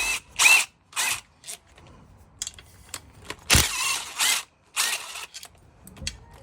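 A power tool spins off 10mm bolts on a Honda Pilot during an oil pump job, in several short loud bursts with brief pauses between them and faint clanks and shop noise in the gaps.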